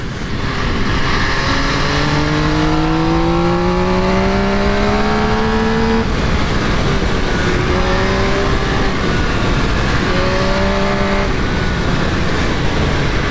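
A loud MV Agusta Brutale 800 motorcycle engine revs up steadily with rising pitch, easing off and climbing again several times, heard close over constant road and wind roar.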